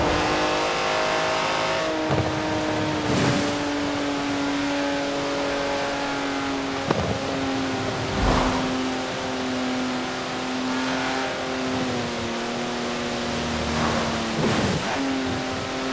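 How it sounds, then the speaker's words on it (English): A 90-year-old racing car engine in Forza Horizon 4 revs and drones steadily, its pitch rising and falling through repeated gear changes, loud and close with no talking. "That's a 90-year-old racing car."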